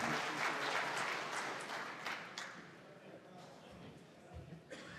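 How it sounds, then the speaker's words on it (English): An audience gives a keynote speaker a round of applause, dense clapping loud at first and then thinning and fading over a few seconds, with a voice speaking as it dies down. "Everyone give him a round of applause"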